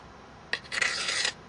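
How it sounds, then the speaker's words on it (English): A knife scraping bamboo to shave off tinder, heard as a brief, close, dry rasp: one short stroke, then a longer grating scrape lasting about half a second. "Very convenient just to scrape some bamboo and make your own tinder."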